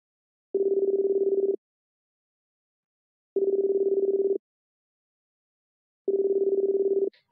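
A phone call ringing out on the caller's end: three evenly spaced ringback tones, each about a second long with long silent gaps, clean and close.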